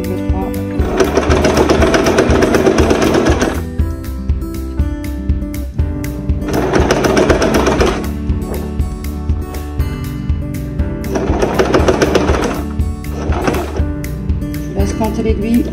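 A domestic sewing machine stitches fabric for a hooded scarf in three loud, close bursts of fast, rhythmic whirring, separated by short pauses with soft clicks and handling noises.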